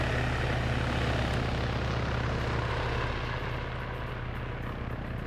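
A steady, heavy rotor and engine drone of a KA-52 attack helicopter in a video game fills the whole stretch, loud and continuous with a low thrumming pulse.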